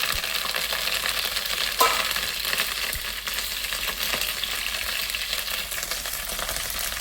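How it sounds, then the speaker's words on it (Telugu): Cumin, garlic and curry leaves sizzling in hot oil, a loud, close, continuous crackling fry with a sharp burst as ingredients hit the pan and a few stirring clinks. "ఫస్ట్గా నూనె కాగింది కానీ జీలకర్ర వెల్లిపాయ వేసుకుందామండి తర్వాత వచ్చేసి ఎనిమిది వేద్దామండి తర్వాత కరివేపాకు"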